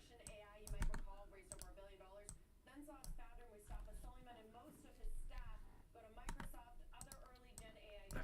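Mouse clicks and keyboard taps at a computer while trading charts are switched around, quick irregular clicks sounding under continuous talking.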